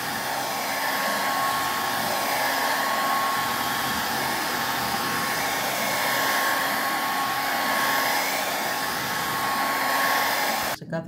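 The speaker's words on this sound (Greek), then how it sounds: "Τώρα θα το στεγνώσουμε το κρακελέ ενός συστατικού με το πιστολάκι" Hair dryer used as a heat gun to dry one-component crackle medium on a decoupage glass piece, a loud, steady close blowing whir running unbroken for about eleven seconds before a brief click at the end.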